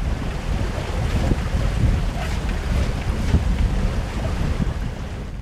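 Sailboat running downwind on open sea between the Aleutians and False Pass, steady loud rush of wind buffeting the microphone over constant water and wave wash, with no talking.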